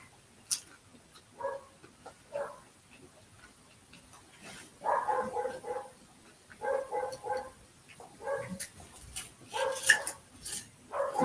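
A dog barking next door in short bursts of two or three barks separated by pauses, fairly distant and moderately loud against a quiet background.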